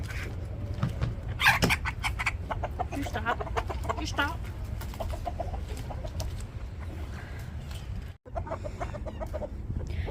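Backyard chickens cluck and call through a busy farmyard mix, close and fairly loud, while a person speaks briefly over them.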